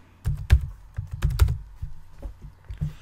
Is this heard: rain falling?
no